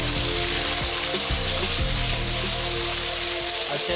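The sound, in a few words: onions and tomatoes sizzling while frying in a pan for matar gosht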